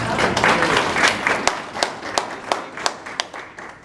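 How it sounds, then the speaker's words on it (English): Business association luncheon audience claps for the Newport News mayor, a steady close burst of applause that thins into a few separate, sharper claps as it dies away. "And I'd like to applaud him"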